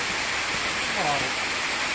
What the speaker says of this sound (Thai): พี่น้องจ้าฝนตกจ้า